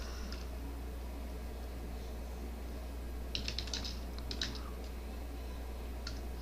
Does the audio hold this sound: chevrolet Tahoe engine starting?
no